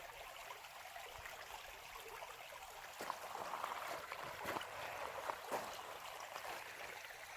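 A stream on a hiking loop flows with a soft, steady wash of water, heard fairly faint with a few small clicks and knocks nearby.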